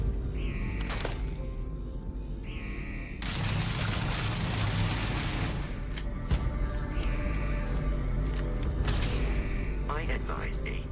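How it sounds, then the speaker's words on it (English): Video game gunfire rattles in dense bursts and sustained automatic volleys amid a busy mechanical din, with a voice speaking over part of it. "Where are you shooting at?"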